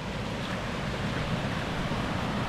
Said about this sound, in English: Look at all these waterfalls here.